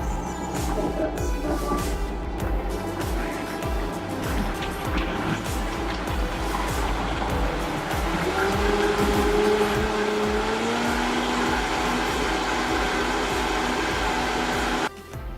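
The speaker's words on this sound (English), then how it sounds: "we're going to mix this up in the blender before we add the protein. Vitamix." A Vitamix blender whirs loudly through a green smoothie, a steady dense motor roar lasting the whole stretch with a slight rise in pitch partway, then cutting off abruptly at the end.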